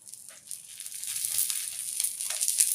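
Oil sizzling around an onion dosa frying on a pan, a steady hissing crackle that grows slightly louder, close and alone.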